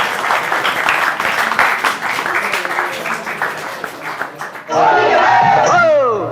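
Audience applause breaks out at a Holi Milan mushaira, a short burst of clapping and cheers that comes right after a voice making an announcement.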